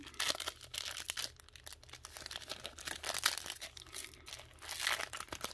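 Foil wrapper of an old-school Yu-Gi-Oh card pack being crinkled and torn open up close, a run of irregular crackling rustles and tearing bursts, fairly quiet with no talking.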